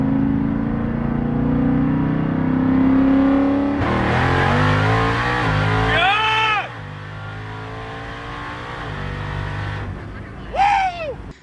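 A Jeep Trackhawk on a dyno revs hard, with rising engine pulls building to a loud roar and falling back, then a short second burst near the end; a voice talks over the engine.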